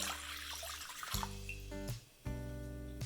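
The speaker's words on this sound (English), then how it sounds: "I'm going to put the cold water in the bowl." Cold water poured into a mixing bowl for no-knead olive bread dough, a steady splashing pour that briefly pauses and then resumes, close by with no talking.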